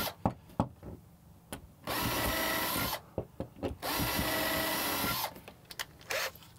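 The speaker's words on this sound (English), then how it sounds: "That's a screw gun." A screw gun runs in bursts of about a second each, driving a screw with a whirring buzz, separated by clicks, knocks and handling noises.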